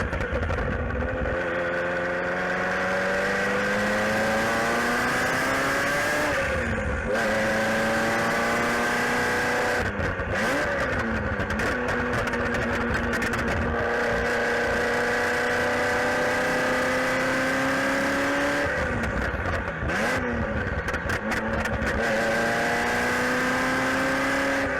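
Ferrari F40 engine running steadily while driving, a loud continuous drone with rising and falling tones as the revs climb and drop through gear changes, close and unbroken for the whole stretch.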